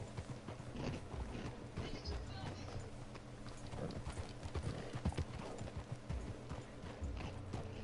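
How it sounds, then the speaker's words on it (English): Horse hooves clip-clop in a steady rhythm close by in the video game Red Dead, with a horse's whinny and some talking mixed underneath. "See my horse drift from side to side."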